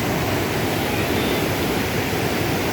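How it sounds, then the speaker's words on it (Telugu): Water rushes steadily in front of Vanadurga temple at Edupayala, Medak, a dense, unbroken roar that stays loud and even throughout with no voices. "ఈ వాటర్ ఫ్లో చూడండి ఎంత అద్భుతంగా ఉందో"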